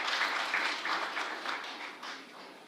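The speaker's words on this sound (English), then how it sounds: "And let's applaud to the mayor of Uzhhorod." Audience applause at an international rehabilitation forum in Lviv greets the mayor of Uzhhorod, a steady wash of many hands clapping at moderate distance, slightly fading toward the end, with no speech over it.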